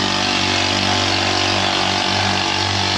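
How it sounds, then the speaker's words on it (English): A string trimmer runs steadily and loudly throughout, a continuous high-pitched motor whine used for lawn care on a very hot summer day. "Trimmer noise."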